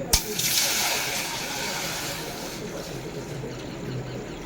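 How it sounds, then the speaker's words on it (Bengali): Water poured into a pot of sweet potato dessert, giving a short splash followed by a steady sloshing, bubbling wash that fills the few seconds at close range. "জল দিয়ে দিলাম চিনি দেবো স্বাদ মতো"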